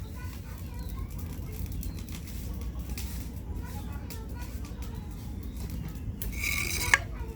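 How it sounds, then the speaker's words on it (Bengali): Mashed greens bharta being scooped into a bowl in a home kitchen: scattered light clinks and scrapes of utensil on dish over low background hum, with a sharper clatter near the end. "তো এখানে একটা বাটি নিয়ে নিছি, বাটিতে ভর্তাটা উঠে নেব।"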